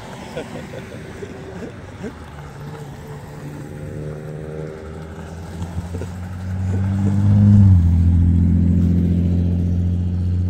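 Old rally cars at a Bull Run vehicle departure rev their engines and pull away, a low engine drone building and rising in pitch toward the end, with people talking over the scene.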